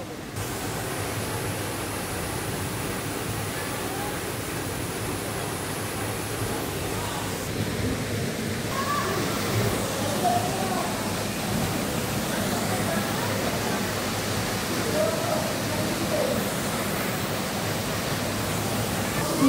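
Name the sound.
Mayang Falls waterfall in Cavite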